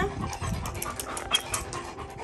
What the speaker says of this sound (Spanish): Aquí están mis perros, chicos.